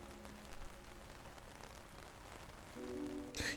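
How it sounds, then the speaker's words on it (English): Rain pelting down in a visual novel game's city scene, a steady hiss of drops on surfaces running throughout with a soft tonal music hum beneath and a sharper burst near the end. "The rain, which had only threatened until now, begins to pelt down."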